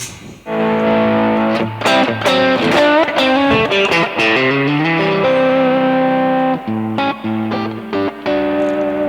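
Loud, distorted electric guitar strums a series of sustained chords with a gritty, saturated tone, played alone with short gaps between some chords.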